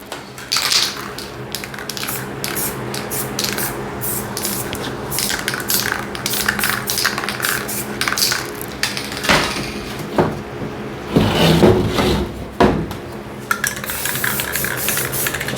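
Close, loud bursts of spray from an aerosol paint can hiss repeatedly during spray paint art, with short pauses, can rattles and clacks of tools between the sprays.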